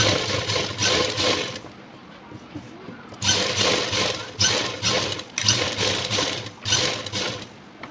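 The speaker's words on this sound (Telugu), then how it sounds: "వర్క్ బ్యాక్ సైడ్ నుంచి ఇప్పుడు మనము స్టిచ్ చేసుకుంటూ రావాలన్నమాట" A sewing machine stitches a work jacket in short bursts of fast, rattling running, broken by brief pauses, with a voice talking alongside.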